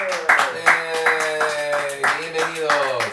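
A small group of people claps to welcome Sister Laura, a few hands giving an uneven, moderately loud round of applause with distinct individual claps, while voices murmur faintly underneath.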